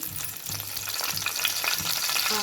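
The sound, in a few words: cardamom and bay leaves frying in oil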